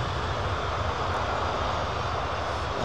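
A Boeing 747 freighter jet departing from the airport produces a steady, loud, broadband engine roar with a deep rumble, unbroken and with no talk.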